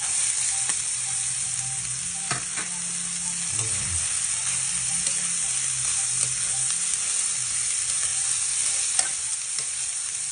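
Banana heart goes into a hot pan for kilawin, giving a steady bright sizzle with a few stirring scrapes and clacks early on, then continuing to fry evenly.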